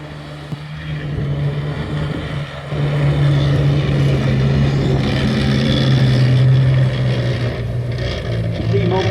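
CVRT Scorpion tracked military vehicle driving during driver training at Bovington, a sustained engine drone with a steady low hum that swells louder partway through, with faint voices in the background.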